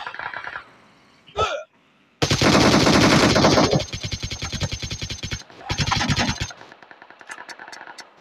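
Bursts of automatic gunfire in the mobile battle game PUBG Mobile on a zombie map, a long loud rattling volley followed by a second burst and scattered fainter shots, with a few brief sounds between them.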